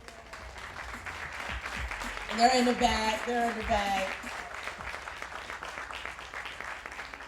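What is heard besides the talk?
audience applause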